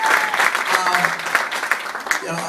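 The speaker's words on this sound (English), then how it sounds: "Big round of applause for everybody that made it happen." Enthusiastic crowd applause with lively clapping and scattered cheers, loud and close, continuing throughout.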